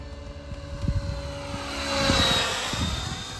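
A radio-controlled helicopter flies close by, its rotor and motor whine rising and swelling toward the middle with a thumping rotor pulse underneath, heard alone.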